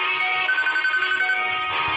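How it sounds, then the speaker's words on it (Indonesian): Mas Habil's mobile phone ringing with an incoming call, a bright, steady electronic ringtone tone sounding continuously and fairly loud throughout. "Ponsel Mas Habil berdering."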